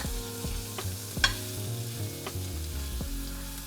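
Steak searing in a hot pan, a steady loud sizzle broken by a few sharp knocks and scrapes as the pan is shaken, no voices.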